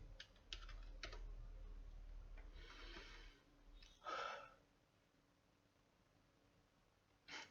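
Fingers type on a computer keyboard while entering a query into stock-charting software: a short, close run of quiet clicks and taps in a calm room, with no speech.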